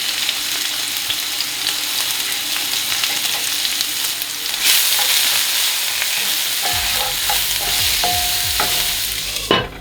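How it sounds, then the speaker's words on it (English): Onion and garlic sizzle steadily in a hot cast iron pan, a continuous loud frying hiss with occasional stirring scrapes and clinks near the end. "the garlic and the onion are going"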